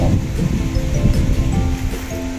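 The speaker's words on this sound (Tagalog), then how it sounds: "Sarap ng hangin din sa niyugan" Steady wind rushing and rustling through a coconut grove, a broad continuous whoosh that swells and eases slightly.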